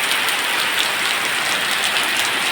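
Heavy rain pouring down, a loud, dense and unbroken hiss of drops striking surfaces close by, with no voices.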